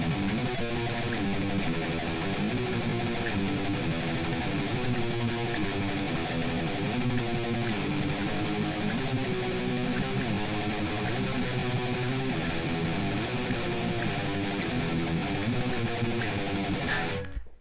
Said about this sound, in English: we do have a distinct guitar riff